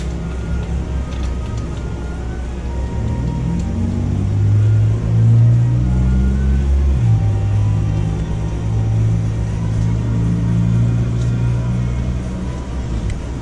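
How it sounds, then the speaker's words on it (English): A Vespa scooter that had been knocked over starts up after temporary repairs, its engine settling into a steady low rumbling idle with a slight swell in the middle, running continuously at close range with no talk. "I want to just see if the bike starts"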